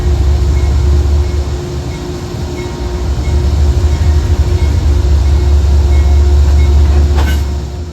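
Amtrak Maple Leaf locomotive number 711 rumbles loudly and steadily nearby, a deep constant engine drone with a faint high whine and no voices.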